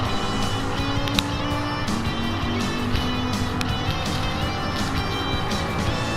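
A KTM X-Bow and a Chevy Nova battle side by side in a racing video game, loud sustained engine drone with overlapping revs and sharp clicks of gear changes, continuous and close.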